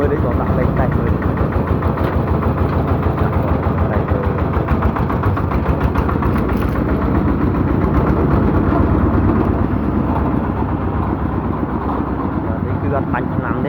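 A Kubota tractor engine idles in a steady, loud, unbroken rumble for the whole stretch while someone talks over it.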